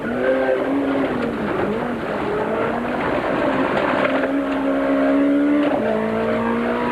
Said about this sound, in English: We join the Nissan of Nick de Waal and Guy Hodgson in car as they set off on stage 3